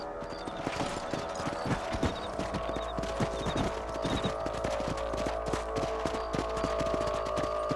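Horse hooves clip-clop at a steady walking pace in the Red Dead Redemption video game, a continuous close rhythm over a low ambient hum with faint tonal game sounds.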